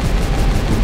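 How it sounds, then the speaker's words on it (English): Explosion in the video game Fairy Fencer F: Advent Dark Force, a dense, loud, sustained roaring blast of noise with no talk over it. "Big explosion!"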